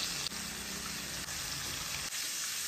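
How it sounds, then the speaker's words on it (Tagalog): Breaded baki frog pieces fry in hot cooking oil, giving a soft, steady sizzle and crackle with a few faint pops, fairly quiet and continuous with no voices. "Init naman ang mantika, ako nang gisugdan og prito."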